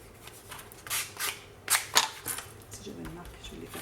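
Scissors cut paper for a scrapbook photo album, a few crisp close snips and rustles spaced irregularly, with someone speaking quietly in between.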